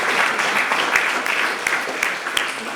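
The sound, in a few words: audience applause for panelists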